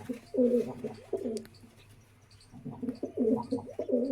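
Low, throaty pigeon cooing in two rolling bouts separated by a quiet pause, close and steady.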